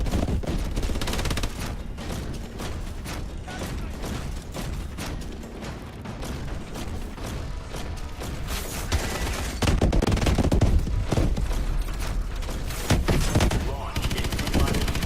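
A main gun firing in the video game Call of Duty: Advanced Warfare, with dense continuous bursts and heavy booms throughout, growing louder in the second half, under occasional automated voice callouts.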